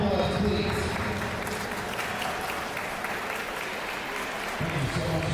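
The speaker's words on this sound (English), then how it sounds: "ladies and gentlemen, please give them a round of applause, please." Audience applause at the finals of a North American table tennis team championship, sustained dense clapping from a crowd, fairly close and steady, easing slightly toward the end.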